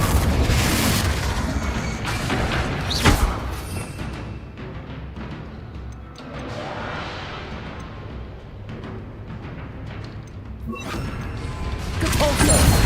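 A Confringo fire spell bursts with a loud booming explosion amid Hogwarts Legacy combat, followed by crashing debris and clattering impacts, with further spell blasts near the end.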